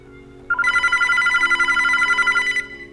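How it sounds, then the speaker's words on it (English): A phone rings in the visual novel Sentimental Trickster with a steady electronic trill that starts abruptly, pulses rapidly for about two seconds, then cuts off over quiet background music. "Soichiro's phone rings, making us both jump."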